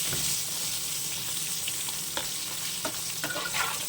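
Pointed gourd (potol) pieces fry in oil, giving a steady close sizzle throughout with occasional scraping and stirring taps from a spatula.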